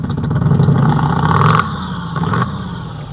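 Komaki electric motorcycle throttled to mimic a petrol V-twin engine, a loud, close, pulsing mechanical rumble that rises, drops off, then briefly surges again with no talk.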